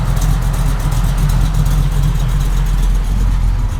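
A 1968 Chevrolet Camaro SS V8 idles with a lumpy cam lope, a loud, steady low rumble close by with a faintly uneven pulse and no voices.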